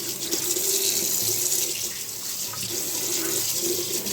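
A kitchen sink being washed under a running tap, with a steady, close rush of water splashing into the basin, continuous and fairly loud, with no voices.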